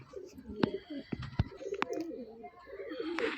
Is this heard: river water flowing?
no